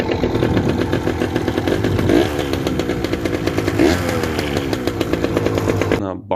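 A Yamaha PW80 two-stroke dirt bike engine, run on premix with its oil pump removed, idles and revs steadily in a dark basement, its buzzing note rising and falling through two quick throttle blips before cutting off.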